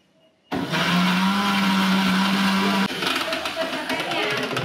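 A mixer grinder grinding chili powder, ginger and garlic roars to life after a brief quiet moment, then whirs loud and close with a steady motor whine that shifts in tone partway through.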